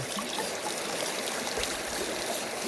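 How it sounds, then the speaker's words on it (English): Water swirling and trickling through a gold pan in a shallow creek in a Shasta County, California canyon, a steady close rushing wash with no talk. "You want to kind of run some water through it"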